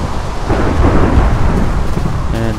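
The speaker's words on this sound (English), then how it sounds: "And raining." Rain and rolling thunder in the Minecraft video game fill the clip, with a loud, continuous downpour and deep rumbling, no talk, and a short tonal chime near the end.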